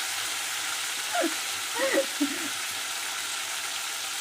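Turkey berries frying in oil with mustard seeds give a steady soft sizzle, with a few brief murmured voice sounds in the middle.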